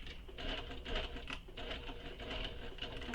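A sewing machine runs slowly and steadily while top stitching a handbag, its needle chattering in a soft, even mechanical rhythm close by, with a low motor hum underneath.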